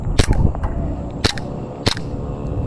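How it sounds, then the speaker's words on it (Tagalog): Three sharp, snappy shots from a WE Glock 17 airsoft pistol fired at uneven intervals, close by, with faint background noise between them. "Buhos natin yung 1 round ng magazine."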